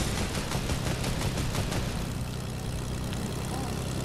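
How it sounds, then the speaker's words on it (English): Airplane engine in Fortnite drones steadily and loudly throughout, a dense continuous roar with a faint rhythmic propeller pulse early on, no voices over it. "I have a plane, which is actually pretty good."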